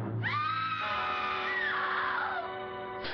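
A woman in an old comedy film lets out a long, sustained, high scream, loud and continuous for about three seconds.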